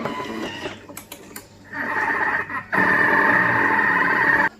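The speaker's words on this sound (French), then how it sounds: "Et je remets le tout à mixer pendant 30 secondes." Thermomix blending an almond filling after orange blossom water is added, a steady mid-pitched motor whir in two bursts separated by a short pause, with faint clicks at the start.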